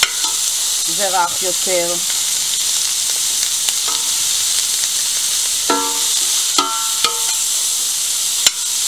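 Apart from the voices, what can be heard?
chicken breast with chili sauce, peppers, onion frying in pan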